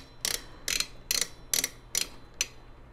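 Screws are tightened into a small form factor PC case during a build, six sharp, evenly spaced ratcheting bursts about half a second apart, close and fairly quiet, without talk.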